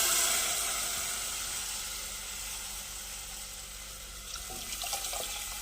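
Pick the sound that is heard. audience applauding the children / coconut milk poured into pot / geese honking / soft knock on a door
coconut milk poured into pot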